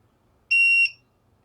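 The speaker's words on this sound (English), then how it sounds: "I don't necessarily like how loud the beep is on this" A single sustained electronic beep from a keyless RV door keypad lock, loud and steady, lasting about a third of a second, then quiet with faint background noise.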